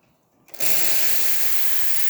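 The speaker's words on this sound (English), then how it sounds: "Steam, as you can see, nice and powerful." The steam wand of a Rocket Cinquantotto espresso machine snaps open after a quiet moment and releases a powerful, steady, broadband hiss of steam, loud and close.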